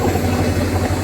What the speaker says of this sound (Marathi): ही ट्रेन आता सुटते आमची.